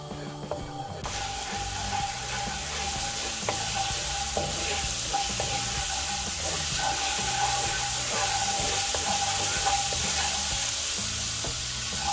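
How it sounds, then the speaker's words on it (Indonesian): Chopped garlic sizzling in hot oil in a pan, a steady bright frying hiss running the whole time with faint clinks of stirring, close and even, no talking. "Kita mulai panaskan minyak aja ya. Masukkan sedikit bawang putih cincang ya."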